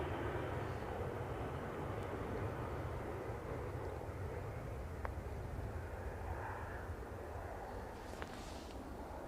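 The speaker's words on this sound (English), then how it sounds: "Let's get this SAS departure." An SAS airliner departing Manchester Airport at dusk gives a steady, broad jet roar that holds level throughout, heard from a distance with a little wind noise.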